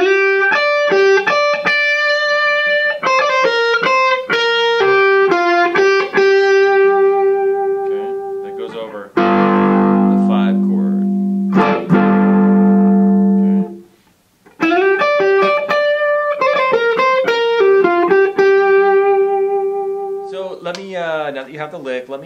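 Blues lick played on electric guitar with effects and slight distortion, clear bent and pulled-off notes in quick runs, loud and close, with a short pause and a low sustained chord passage midway.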